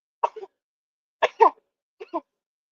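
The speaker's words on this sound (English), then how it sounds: "you're coughing on my screen" Three short bursts of coughing or throat clearing in quick succession, close and fairly loud, separated by brief silences with no talk over them.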